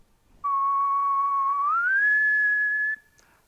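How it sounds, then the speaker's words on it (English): A single clear whistled tone held steadily for about two and a half seconds, gliding upward partway through to a slightly higher pitch, alone with no talking. "when I whistle, you can see it's a very pure pitch, just one line"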